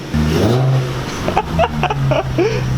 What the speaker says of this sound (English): Martin, bring up your car. I did want to move the car out of the way